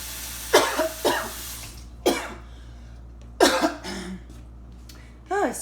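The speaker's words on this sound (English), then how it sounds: "Something went down the wrong way there." A person coughs in several sharp, separate bursts after food goes down the wrong way, close up with a faint cleared throat at the end.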